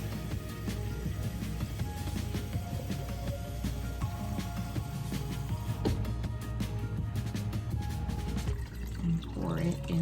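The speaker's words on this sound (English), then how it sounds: "And then I'm going to fill this up again with water." Water runs into a bowl in a kitchen while making Mexican lasagna, a continuous close splashing fill with faint clinks and a brief voice near the end.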